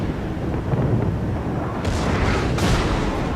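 Battleship main guns fire a salvo in World of Warships, a couple of heavy booming blasts over a continuous rumbling battle backdrop, loud and close.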